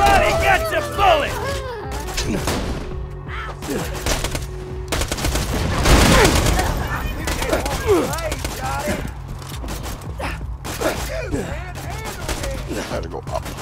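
Gunfire in Borderlands 2 crackles in rapid bursts and scattered single shots throughout, under a player's excited talk and game effects, with a louder flurry in the middle.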